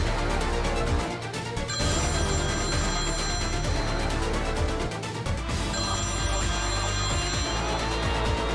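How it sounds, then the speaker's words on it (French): Telephone ringing indoors, a loud electronic ringtone in two bursts with a brief gap between, close and alone. "Allez, Anne, décroche"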